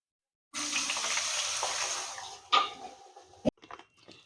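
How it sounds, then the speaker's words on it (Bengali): Potato chips frying in hot oil for a homemade spiced crisp recipe, a steady close sizzle that fades, followed by a few sharp clatters and knocks from the pan. "একইভাবে সবগুলো চিপস ভেজে নেব।"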